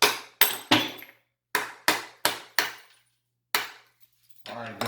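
An old bathroom sink under a granite counter is smashed apart with hard, sharp strikes. About eight loud blows ring out close by in an uneven rhythm with short silences between them, and a scraping rattle comes at the end.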